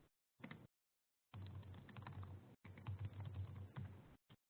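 Typing on a computer keyboard in short, dense bursts of clicks, faint and close, broken by silent gaps.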